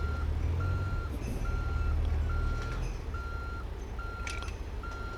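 A truck reverses in American Truck Simulator, its backup alarm sounding a steady series of evenly spaced beeps over a constant low engine rumble, with a faint hiss of air near the end.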